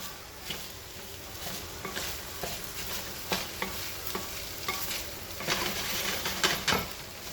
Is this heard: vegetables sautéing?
yes